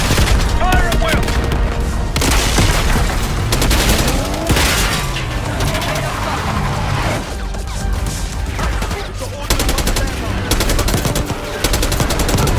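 Call of Duty Black Ops 6 battle gunfire: sustained, loud automatic fire and overlapping shots with crashes and booms, dense and continuous for the whole stretch, mixed with chaotic combat noise.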